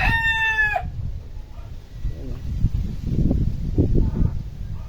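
A gamecock, a fighting rooster, crows once, loud and close, in a short rising call. Softer clucking and farmyard rustling follow.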